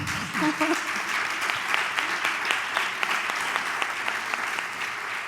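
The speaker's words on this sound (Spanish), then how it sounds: "yo me alegro de que aplaudáis" A live audience at a debate-style panel breaks into sustained applause, a dense, even clatter of many hands clapping close by, with a brief voice audible at the very start.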